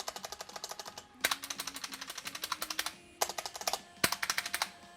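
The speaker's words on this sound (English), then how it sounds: "You can hear the Marvo is a lot cleaner with its stabilizers, especially on spacebar" Typing on a Marvo KG962 60% mechanical keyboard, with its stabilized spacebar included. Crisp, close keystrokes come in quick rhythmic bursts with short pauses between them, and no one speaks.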